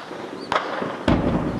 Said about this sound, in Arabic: قصف عشوائي على حيطان